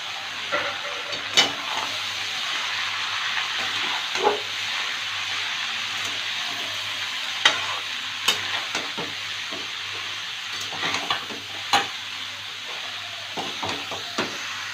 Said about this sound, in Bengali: ফোড়নটা ভাজা হয়ে গেছে চাল কুমড়োটা দিয়ে দেব